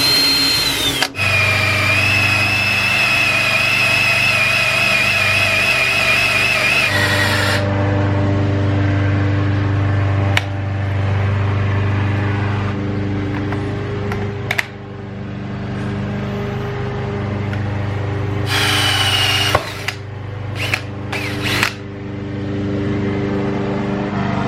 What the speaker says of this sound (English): The next step is going to be drilling a hole for the faucet.